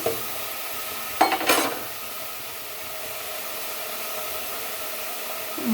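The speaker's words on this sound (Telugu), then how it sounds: "కలపాలి కొంచెం" A cucumber curry is stirred in a frying pan over a soft background sizzle, with a short burst of scraping and clattering strokes partway through. The sound is close and there is no talking.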